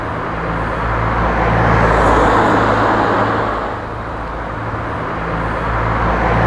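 Cars passing on a road, a continuous roar of traffic that swells and fades as vehicles go by at moderate distance, with no talk.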